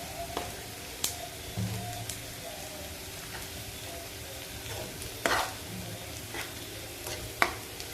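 Masala with chili powder, turmeric and salt fries in a pan for dhaba-style paneer butter masala, giving a quiet, steady sizzle broken by a few sharp spoon knocks and scrapes.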